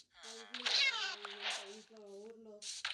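A Minecraft cat meows in a few drawn-out, wavering calls while a voice talks over and between them.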